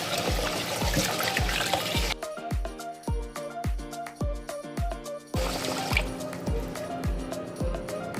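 Rice being rinsed in water to remove starch, with a steady series of close, rhythmic drips and splashes as the grains are swished and the water is stirred and poured, alone without talk.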